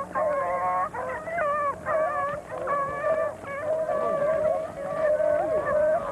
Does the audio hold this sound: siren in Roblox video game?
no